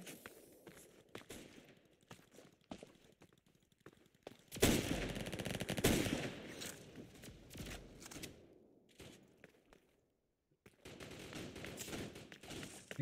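Gunfire in a video game, with scattered single shots and short bursts that swell into a loud, dense volley in the middle, followed by a brief silence and then another burst near the end.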